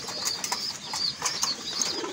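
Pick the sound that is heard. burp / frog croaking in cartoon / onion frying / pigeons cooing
pigeons cooing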